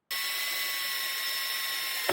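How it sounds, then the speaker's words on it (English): A power drill bores through plastic, holding a steady high whine from start to finish after an abrupt start, close and loud with no voices. "While I'm drilling, I want to be very careful as I'm going through that I don't punch through the plastic"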